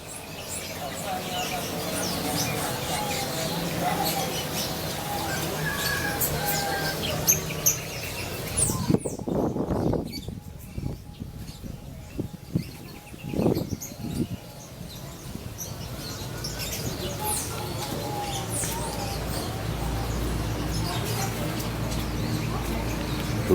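Caged birds at a bird market chirp in scattered bursts amid busy crowd noise, with people talking nearby and a brief quieter lull midway.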